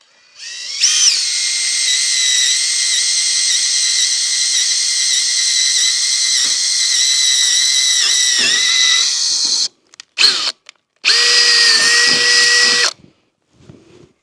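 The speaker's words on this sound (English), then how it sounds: "as you drill them so you don't snap your drill bit off" A power drill whines steadily at high pitch for about nine seconds, then stutters in short bursts before one last sustained run and a stop.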